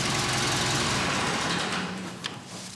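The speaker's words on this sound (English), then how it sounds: "Here we have a 274 Massey tractor." Massey Ferguson 274 tractor with its engine running steadily in a garage, a continuous low rumble at close range with no voices, fading slightly toward the end with a brief clatter.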